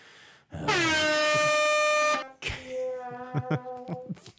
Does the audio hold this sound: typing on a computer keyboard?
no